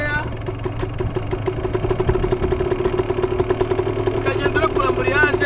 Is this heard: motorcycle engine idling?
yes